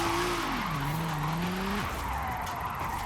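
A 2JZ-swapped Nismo replica drift car in Forza Horizon 5 slides with a steady tire squeal and a falling engine whine. The whine drops off abruptly partway through, leaving a continuous rushing engine and road roar with no voices.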